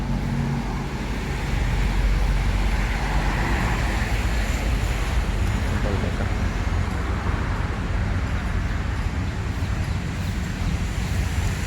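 Busy road traffic on a wet, muddy road where Sempati Star double-decker buses gather, heard as a continuous loud rumble of engines and tyres that swells after the first second and holds steady, with no voices.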